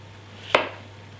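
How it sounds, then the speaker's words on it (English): A knife chops through pumpkin on a board in a single close, crisp thud, with a faint steady hum underneath and no talk. "and roughly chop."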